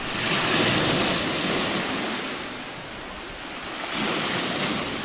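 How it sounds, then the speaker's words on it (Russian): Sea waves wash onto a rocky beach at Simeiz in Crimea, a continuous close rush of surf that swells, eases, and then builds again, with some wind and no voices. "бесконечно приятный шум моря"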